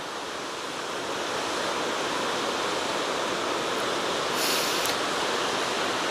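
The Hraunfossar waterfalls pour out of a lava field, producing a loud, continuous broadband rush of water that holds steady without pause, with no voices.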